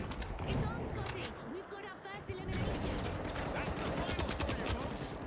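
Video game gunfire, rapid overlapping bursts of shots from several directions, fairly faint, nearly continuous apart from a brief lull, with a person talking underneath.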